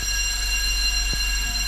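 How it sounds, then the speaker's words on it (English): Hotel fire alarm in Bangkok going off at midnight, a steady loud electronic tone held without break, one short thump near the end, no voices. "I guess the fire alarm's going off in this hotel I'm in."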